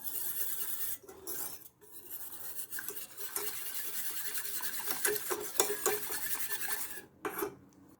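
Milk, cocoa and flour stirred together in a cooking pot, close rasping and scraping of a spoon against the pot in a continuous rhythm, briefly pausing, with no talking.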